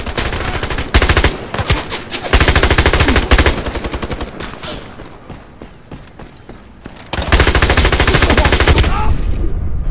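Rapid automatic gunfire from a heavy-recoil weapon in the shooter game Iron Sight, loud bursts of close machine-gun fire with a short lull of scattered shots in the middle before another sustained burst.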